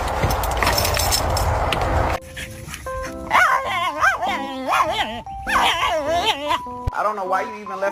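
A friendly dog barks and lets out short yips and whimpers in bursts, close by, mixed in with people talking.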